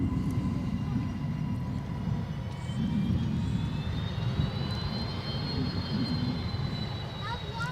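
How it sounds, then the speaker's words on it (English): A Fokker airliner at Adelaide Airport drones steadily with a loud, continuous engine roar and a slowly rising whine, heard from nearby with voices faintly present. "You can hear the Fokker."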